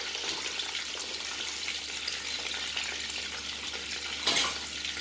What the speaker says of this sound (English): After that, we will add onions.